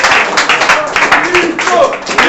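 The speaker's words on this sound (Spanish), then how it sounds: "Denle un aplauso a Cristo." Church congregation clapping during a Spanish-language service, a dense burst of many hands with uneven rhythm, close and loud, with voices mixed in throughout.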